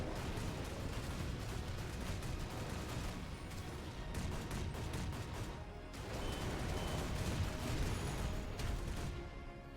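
Heavy guns fire continuously in a steampunk MMORPG, a dense, loud barrage of overlapping shots and blasts that rarely lets up for about ten seconds, with one short lull partway through.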